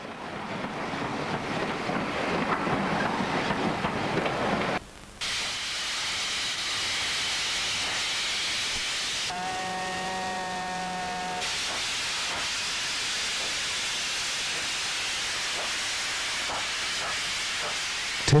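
A 38 class steam locomotive, piloted by a 36, hauls the 500-tonne Up Melbourne Express into Goulburn in 1962, giving a steady loud roar and hiss of steam with a brief whistle partway through.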